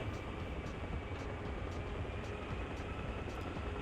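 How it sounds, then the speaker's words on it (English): A steady, loud helicopter rotor drone in the video game Arma Reforger, with a continuous engine roar and faint periodic chopping, unbroken for a few seconds. "Very fast as well, this helicopter."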